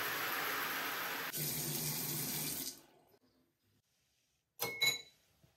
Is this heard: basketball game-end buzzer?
no